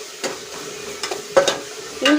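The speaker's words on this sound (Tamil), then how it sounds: "வெங்காயம் போட்டு நல்லா ப்ரௌன் ஆகட்டும்." Onions frying in oil with mustard seeds, fenugreek and curry leaves in a pan for a Tamil anchovy fish curry, a steady sizzle broken by a few scraping stirs, close and alone.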